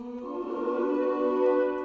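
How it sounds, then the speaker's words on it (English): A sustained sung vocal note in FL Studio swells gently, softened and spread out by a roomy room-simulator reverb plugin. "It's like a room simulator mic reverb kind of plugin"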